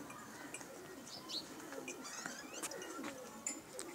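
Domestic Teddy pigeons coo softly and repeatedly, close by, with faint chirps and light rustling in a quiet setting.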